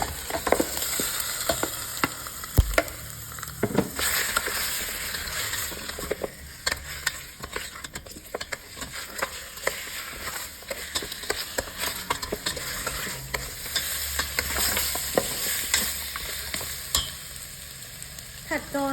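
Pork ribs fry in a pan, giving off a steady, close sizzle with scraping stir strokes and clatters throughout, and no voices.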